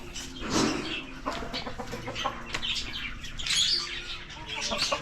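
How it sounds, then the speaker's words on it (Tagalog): Several laying hens cluck and squawk nearby in a busy, overlapping chorus, with some wing flapping and faint background noise. "Mga lagang manok."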